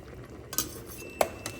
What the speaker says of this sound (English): while my stew for my dogs is cooking